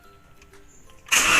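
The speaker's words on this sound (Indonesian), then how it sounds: "untuk caranya ngidupin mesin atau starternya" A car engine starts with the ignition key during a basic driving lesson: quiet cabin sounds give way to a sudden, loud, steady roar as the engine catches.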